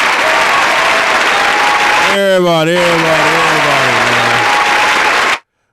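Crowd applause and cheering for a bass player at a live funk show, steady and loud throughout, with a voice calling out over it midway before the sound cuts off abruptly.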